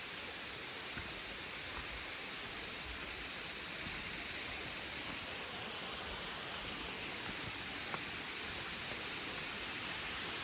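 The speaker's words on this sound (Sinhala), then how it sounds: "අඬා හැලෙන ඇල්ල." Adahalena waterfall near Elpitiya, Pituwala, in a forest reserve, gives a steady, unbroken rush of falling water that stays constant and fills the whole stretch without pause.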